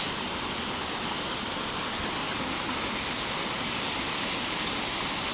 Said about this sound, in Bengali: ওই দেখো কত সুন্দর ঝর্ণা